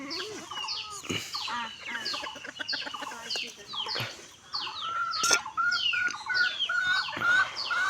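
Chickens and young chicks cluck and chirp busily while feeding at a rural homestead, with overlapping short clucks and higher peeps close by, plus a few sharper calls.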